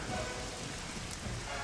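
Steady rainfall in Zelda: Skyward Sword HD during the final boss fight, a soft continuous hiss of rain on surfaces, fairly quiet and even throughout.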